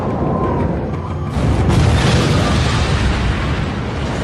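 Atomic bomb detonation over Nagasaki, August 1945, rendered as a documentary sound effect: a loud, sustained rumbling blast that swells after about a second and roars on steadily without any voices.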